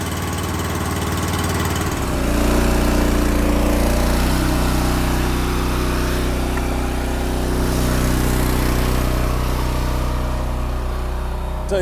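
A log splitter's small engine cranks up and settles into a steady, loud idle as it warms up, droning on continuously after a short start.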